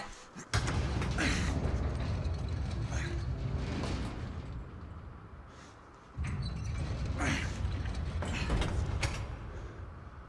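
A heavy door creaks and slides open with rumbling mechanical noise in the Victorian-era action game The Order: 1886, loud thuds marking two separate pushes amid a low ambient rumble.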